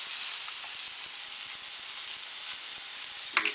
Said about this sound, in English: Now I'm going to add the black garlic